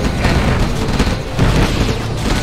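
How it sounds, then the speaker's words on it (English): An EM pulse bomb detonates in Red Alert 2 as a deep, loud, sustained rumbling boom that rolls on without pause for a couple of seconds, with no voice over it. "EM pulse bomb launched."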